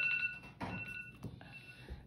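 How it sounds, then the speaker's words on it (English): A half-hour timer beeps in short bright tones, fairly quiet, with a soft thump and rustle partway through. "there's my timer, my half hour timer"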